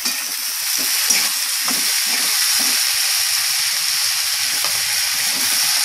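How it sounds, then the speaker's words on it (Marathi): Chopped tomatoes for pav bhaji frying in hot oil, giving a steady, dense sizzle close by, with occasional soft stirring scrapes and no voices. "आपण चांगलं परतून घेऊया"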